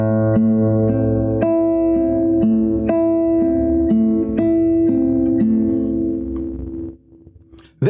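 Classical guitar plays one measure of a Sagreras study, evenly fingerpicked single notes in a steady rhythm over a low bass, close and clear, with the last note fading and no talking.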